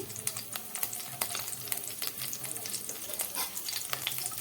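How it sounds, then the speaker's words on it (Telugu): Sliced onions and urad dal frying in a little hot oil make a busy, crackling sizzle full of rapid tiny pops. It stays steady and close throughout with no voices. "ఇందులోనే ఆనియన్ వేసి వేయించుకోండి"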